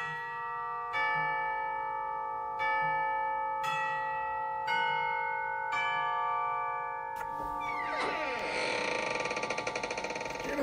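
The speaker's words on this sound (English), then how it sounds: "Oh, there's a bell." A doorbell chimes in a series of ringing, resonant strokes spaced about a second apart, followed by a denser burst of clanging tones, loud and close with no talk over it.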